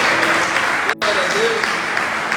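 A church congregation applauds in a steady clapping wash during a service, with a brief cut midway and voices mixed in underneath.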